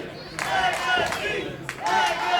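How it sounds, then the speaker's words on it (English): A wrestling video game crowd chants in loud, rhythmic swells of massed voices, rising and falling in waves that fill the arena. "Crowd chanting for Legacy."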